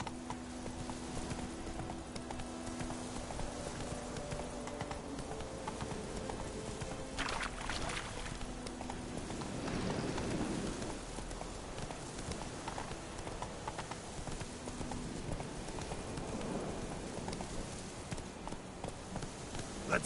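Roach the horse's hooves clip-clop steadily and close in The Witcher video game, a continuous trotting rhythm over game ambience and background music.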